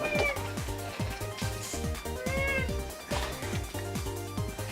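Several cats meow repeatedly and close by, overlapping cries with some drawn-out caterwauling tones, fairly loud and continuous throughout.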